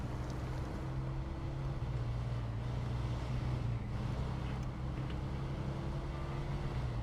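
A custom 5.2 engine runs at a steady, even drone throughout, heard close and alone with no talk over it.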